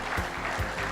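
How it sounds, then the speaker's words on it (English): Brief burst of audience applause for panelists at an innovation summit, a dense, steady clatter of many hands at moderate loudness. "Can we have a huge round of applause for our esteemed group of panelists?"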